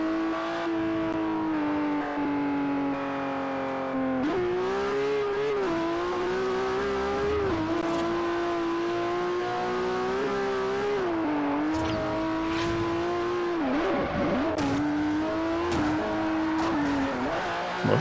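A Ferrari's engine in the Forza Horizon racing game holds a loud, steady tone throughout, with revs rising and dipping between gear changes and occasional tire squeal.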